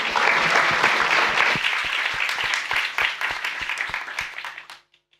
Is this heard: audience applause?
yes